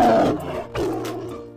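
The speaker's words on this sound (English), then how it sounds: "Tiger. Beautiful tiger." A toy tiger gives off a recorded roar, a short growling blast that dips briefly and then rumbles again before fading out, fairly close and clear.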